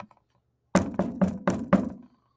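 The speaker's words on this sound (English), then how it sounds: "We walked up and knocked on the door." Five firm knocks on a door, evenly spaced about a quarter second apart, close and fairly soft, following a brief quiet pause with no talking.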